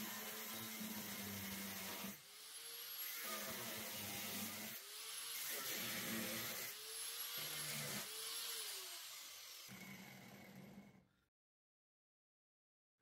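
Cut-off wheel grinder slicing rusted metal of a truck bed, a loud high whine in several bursts with the pitch dipping under load between brief spin-downs, close, then stopping into silence.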